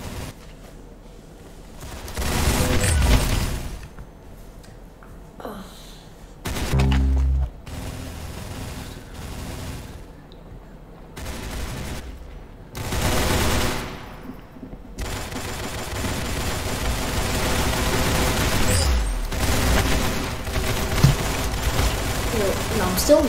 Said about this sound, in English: Oh, sorry for shooting the guests.